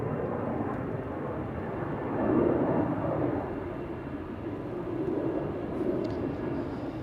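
KLM Boeing 737 jet departing Amsterdam Schiphol, a sustained rumbling engine roar that swells and eases slightly, moderately distant and steady with no voices.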